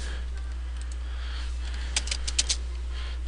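A computer keyboard typed on in a few quick, crisp key clicks near the end, over a steady low electrical hum, with no talking.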